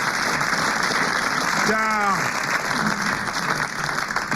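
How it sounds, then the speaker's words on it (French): Studio audience applause on a French radio-television quiz panel show, a continuous broad wash of clapping with a voice briefly speaking over it midway. "vous applaudissez Monsieur Roland"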